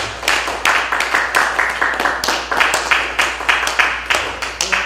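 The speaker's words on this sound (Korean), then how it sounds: "많은 박수를 부탁드리겠습니다." Audience at a commemorative ceremony gives sustained applause, a dense steady wash of many hands clapping with regular swells, fairly close and with little talk.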